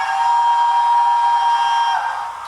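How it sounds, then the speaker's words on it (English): A Hornby P2 model steam locomotive sounds its whistle: one long, loud, steady tone held for about two seconds before tapering off, with no talking over it. "And a whistle please, if you will, P2."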